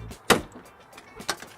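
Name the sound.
car door unlocked by hand with an RFID implant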